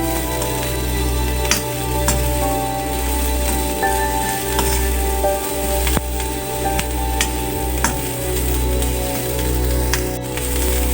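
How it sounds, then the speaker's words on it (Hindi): Black pepper and cumin frying in a pan over a high flame for keema: a continuous bright sizzle with occasional sharp crackles and a low, steady hum from the burner running underneath. "और फ्लेम तेज़ करके मैं इसे भी फ्राई कर लूँगी"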